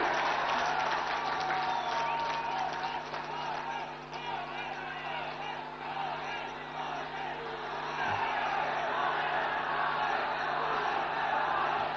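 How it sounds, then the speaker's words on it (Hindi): A crowd at a political speech applauding loudly and continuously, a dense wash of clapping with cheers, close and sustained throughout. "जनता जनार्दन तालियों की आवाज से उनका मुंह बंद करे"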